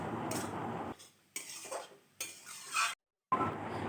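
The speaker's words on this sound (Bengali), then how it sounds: "কাঁচা লঙ্কা কুচিটা দিয়ে কিছুক্ষণ নেড়ে চেড়ে নামিয়ে নিলেই রেডি চিকেনের পুর" Chopped green chili being stirred through a chicken filling in a pan, heard as close, intermittent bursts of scraping and clinking separated by brief pauses, with no talking.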